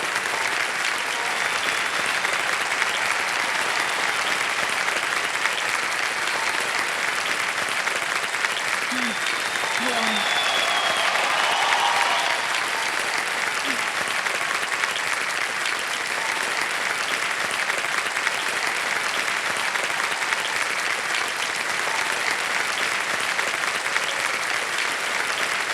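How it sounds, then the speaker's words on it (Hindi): A television quiz show studio audience applauds a contestant and his parents, sustained even clapping from many hands filling the room at moderate level, with faint voices and brief musical touches beneath. "एक बार तालियां बज जाए इनके लिए"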